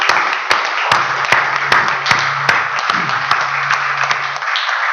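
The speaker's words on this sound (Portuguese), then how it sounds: "Vamos dar uma salva de palmas para o nosso Deus" Church congregation clapping after a prayer, a scattering of distinct, sharp claps at a loose rhythm over a low hum, close and fairly loud, tapering off near the end.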